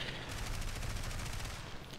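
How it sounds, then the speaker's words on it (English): Machine guns on a Do 217 J-1 night fighter in the War Thunder flight game fire in one sustained, rapid burst of dense crackling shots lasting about two seconds. "Here I'm just shooting machine guns"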